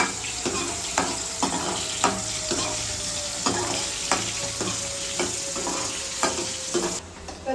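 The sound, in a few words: curry leaves and tomato sautéing in oil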